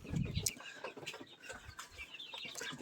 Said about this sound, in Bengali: এগুলো হচ্ছে আমাদের কোয়েল পাখিগুলো